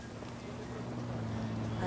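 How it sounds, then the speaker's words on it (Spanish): A helicopter approaches in the video game Ghost Recon Wildlands as a low, droning rotor hum that grows steadily louder. "Se acerca un helicóptero."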